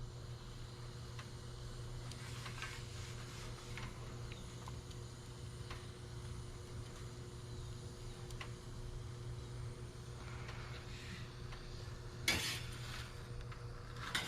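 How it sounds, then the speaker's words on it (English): A pizza cooks in a pan with a faint, steady sizzle over a low background hum, broken by a brief clink of cookware near the end. "Bottom is cooking nicely"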